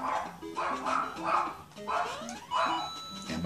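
A dog barks repeatedly in a home during a video game session, sharp yaps in quick bursts with whiny pitch slides, loud and close against electronic game music.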